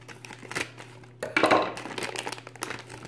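Scissors snip and crinkle through a plastic Model Magic package at close range, with short rustling cuts and one louder burst of crackling.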